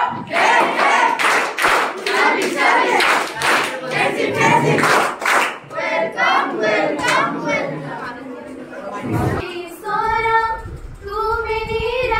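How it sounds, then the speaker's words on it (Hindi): Students in a tuition class clap for Teacher's Day, quick close claps under loud children's chatter, giving way to voices singing together toward the end. "All students, welcome ताली शुरू करो"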